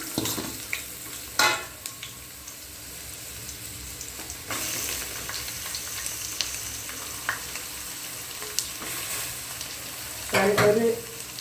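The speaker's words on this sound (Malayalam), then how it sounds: "ഞാനിപ്പോൾ 2 മീഡിയം സൈസ് ഉള്ളിയാണ് ഞാൻ എടുത്തിട്ടുള്ളത്. ഇത് നല്ലതുപോലെ ബ്രൗൺ കളർ ആവുന്നത് വരെ വഴറ്റിയെടുക്കണം." Two medium onions sauté in a pan for a mutton dal curry, a continuous close sizzle broken by a few sharp clatters of stirring against the pan.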